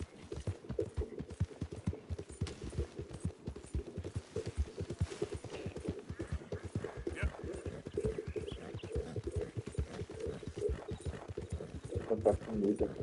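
A horse in the video game Red Dead Redemption 2, with dense, steady hoofbeats close by throughout and a brief whinny late on.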